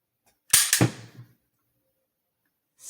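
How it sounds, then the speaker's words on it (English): HK USP pistol double-action trigger pull: a sharp mechanical snap of the hammer falling, followed by a quick secondary click and brief rattle, then silence, close and isolated. "let's compare the double action trigger pull"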